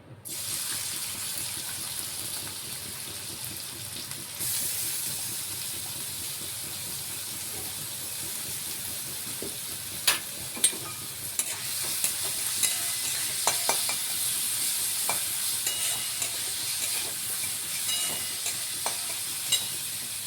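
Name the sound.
onion, garlic, green chili, ginger frying in hot oil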